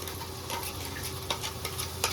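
Green ground masala of green chillies sizzles and fries in a hot pan for a country-style chicken gravy, a steady crackle with a few sharper spits and stirring clatters near the mic, no voices.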